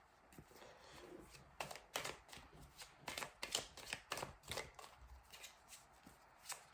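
Oracle cards are shuffled by hand, a quiet, close run of crisp riffling flicks and soft slaps coming in irregular bursts with no speech.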